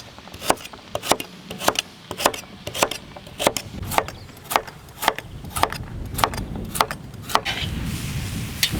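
A knife chops vegetables coarsely on a cutting board for shrimp bisque, sharp regular knocks about two per second, close and clear.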